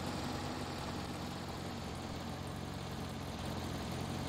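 Steady engine drone from a car in the video game The Long Drive, a low continuous hum running unbroken throughout, fairly quiet with no voices.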